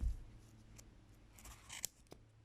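Sharp, pointy scissors snip the edges of a cardboard-ring yarn pompom up close, a few crisp, quiet cuts scattered irregularly over near-silence.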